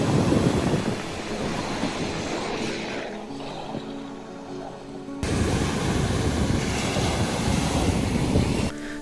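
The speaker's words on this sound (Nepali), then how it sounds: "त्यहाँ हावाको तीव्र गतिको कारणले गर्दा समुद्रको पानी खुब छल्किरहेको थियो" Sea waves splashing on a beach in strong wind, a loud, continuous rush of surf with heavy wind buffeting the microphone, swelling again partway through.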